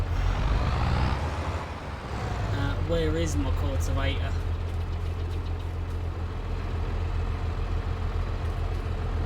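A loud old Fiat tractor engine from Farming Simulator 22 idles with a steady low drone, and someone speaks briefly over it partway through.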